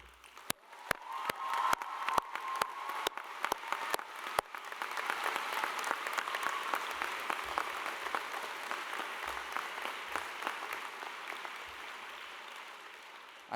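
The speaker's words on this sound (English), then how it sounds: "ask you to put your hands together for a final round of applause for Dawn" Audience applause fills a graduation ceremony hall for art and dance graduates, opening with a few sharp separate claps before swelling into dense, sustained clapping from a large crowd that slowly fades toward the end.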